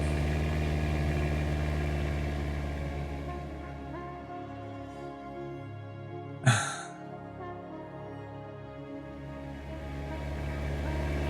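A car engine idles steadily in The Stanley Parable, a low continuous hum broken once by a short sharp hiss or thump midway before the drone resumes.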